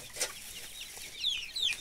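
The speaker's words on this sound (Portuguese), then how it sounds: "Essas galinhas são curiosas." Free-range backyard chickens let out into the yard while their coop is cleaned, giving a few quiet, scattered clucks and soft peeps at a moderate distance over faint outdoor background, with no talking.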